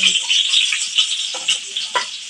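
Garlic frying in cooking oil, a steady bright hiss of sizzling with a few soft stirring scrapes and clicks, close and continuous.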